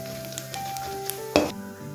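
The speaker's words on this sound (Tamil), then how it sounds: "இப்போது புளுத்தம்பருப்பும் கடலைப்பருப்பும் 2 டீஸ்பூன் போட்டாச்சு," Hot oil sizzles softly in a pan, with a brief louder crackle as urad dal and chana dal are dropped in to temper. Gentle background music plays throughout.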